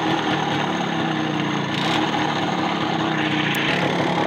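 An MZ 150 motorcycle engine runs steadily after sitting unused for three years, a constant close mid-pitched idle drone with no voices.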